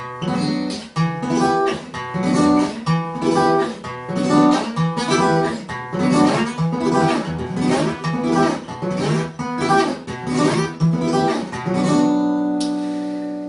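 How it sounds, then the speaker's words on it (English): A flamenco guitar plays a ring-finger sweep picking pattern, with thumb-picked bass notes under a steadily repeating, rippling arpeggio that ends on a sustained ringing chord, played alone. "the fourth picking pattern, is what I like to call the ring finger sweep"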